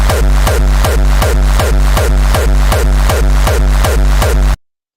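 Punchy kick drum sample with rendered reverb, a loud, steady four-on-the-floor run of about ten hits at an even tempo, each with a short reverberant tail, played alone and ending abruptly.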